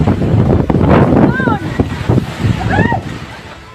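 Typhoon wind roars across the microphone in loud, continuous gusting rumble, with faint whistling tones rising over it twice.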